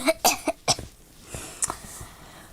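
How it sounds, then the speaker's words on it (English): Several sharp coughs in quick succession, close and fairly loud, then a pause and two more coughs, with no talking. "coughing."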